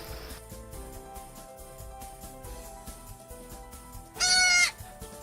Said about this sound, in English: I had an unexpected delivery from my goat, Juliet.